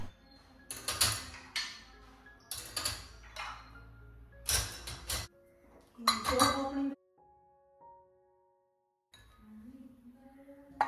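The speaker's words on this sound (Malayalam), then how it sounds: "ഇനിയിപ്പോൾ രാവിലെ കഴുകി വെച്ച പാത്രങ്ങളെല്ലാം ഒന്ന് അറേഞ്ച് ചെയ്ത് എടുത്തു വെക്കാനുണ്ട്" Washed dishes and kitchen utensils being arranged and put away, with several bursts of clinking plates and rattling cutlery separated by short pauses, fairly close, followed by a quieter stretch of faint tonal ringing.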